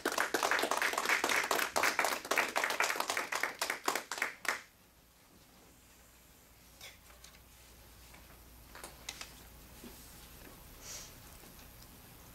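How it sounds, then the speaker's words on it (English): A congregation claps in a steady, rhythmic round of applause for Reverend Richard Musil after a hymn, each clap distinct and loud for about four seconds before stopping abruptly into near silence with faint scattered taps. "Let's give him a round of applause now"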